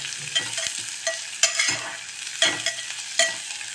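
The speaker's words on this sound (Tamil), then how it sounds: "பச்சை மிளகாய், வெங்காயம் ஓரளவுக்கு வதங்கிட்டு" Green chillies and onion sautéing in a pan for broccoli biryani, a soft steady sizzle close by with regular spatula scrapes and taps every second or so.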